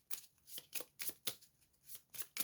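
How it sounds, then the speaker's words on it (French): Tarot cards shuffled by hand, close and quiet, in a quick rhythm of about eight crisp riffling bursts separated by short pauses. "je vais vraiment brasser un petit peu plus que d'habitude pour donner mon énergie aussi, pour que les cartes puissent me parler"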